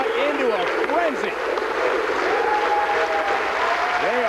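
A huge bowling crowd in Tacoma roars and applauds after a perfect 300 game at a PBA semifinal, loud sustained cheering and clapping with whoops rising over it, while a commentator talks throughout.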